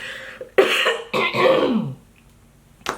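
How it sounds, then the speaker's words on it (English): A person clears their throat in a few rough, gravelly bursts, close to the mic, then a brief quiet pause and a short final rasp. "let me clear my throat"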